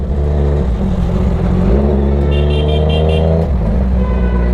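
A Kawasaki Z900 motorcycle with a loud aftermarket exhaust rumbles close by, its engine note rising and falling through revs, with traffic and a brief horn toot around it.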